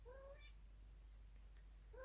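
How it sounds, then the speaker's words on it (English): A pet cat gives two short, faint meows, one at the start and one at the end, over a low steady hum. "If you can hear meowing,"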